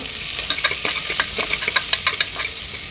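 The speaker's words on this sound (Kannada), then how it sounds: "ಒಂದು ದಪ್ಪ ಸೈಜ್ ಆನಿಯನ್ ಆ್ಯಡ್ ಮಾಡ್ಕೊಂಡಿದ್ದೀನಿ. ಇದಿಷ್ಟನ್ನು ಚೆನ್ನಾಗಿ ಫ್ರೈ ಮಾಡ್ಕೋಬೇಕು" A large onion with chillies fries in a pan for chicken biryani, a steady close sizzle broken by frequent sharp scraping clicks of stirring, with no talking.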